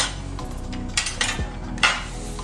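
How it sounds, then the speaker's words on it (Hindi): Chicken is mixed with soy sauce, salt and black pepper in a bowl, a few light clinks and scrapes of a spoon against the dish in quick succession. "मिक्स कर देना है।"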